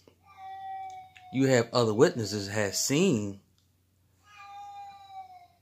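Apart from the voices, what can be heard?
cat meowing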